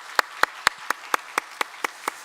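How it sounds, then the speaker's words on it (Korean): A church congregation at a Korean Wednesday worship service claps in steady unison, about nine crisp, evenly spaced claps, fairly soft and without voices. "우리 박수로 한번 격려하겠습니다."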